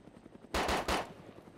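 Two short, loud bursts of rapid gunfire fired at a plane in the video game DayZ, standing out sharply from a quiet background.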